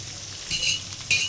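Two large chopped onions sizzling and frying in a pan for a village-style country chicken curry, a steady close hiss with a couple of brief stirring scrapes.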